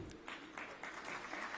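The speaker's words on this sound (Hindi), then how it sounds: "ताली बजा करके उनका तहे दिल से स्वागत करें" Audience applause welcoming a minister at a government event in Raipur, heard as a short burst of steady crowd clapping with no talk over it.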